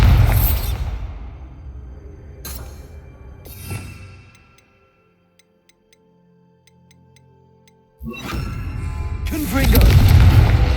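Two loud Bombarda blasting-spell explosions in Hogwarts Legacy boom out, the first fading into a quiet stretch of faint ticking before the second erupts and roars on to the end.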